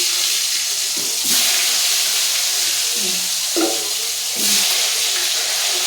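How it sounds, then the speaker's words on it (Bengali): Potato pieces frying in hot oil in a home kitchen, a steady broad sizzle running throughout with a few brief stirring knocks and swells, no voices. "আলুটাকে তেল দিলাম, তেলের মধ্যে আলুটা ভেজে নিই"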